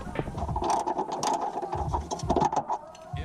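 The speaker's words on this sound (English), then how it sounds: "remove these two bolts with a 14mm wrench" A 14mm ratcheting wrench clicks rapidly while loosening the strut top bolts on a car during a spring install, a close, busy metallic ratchet chatter with short pauses between strokes.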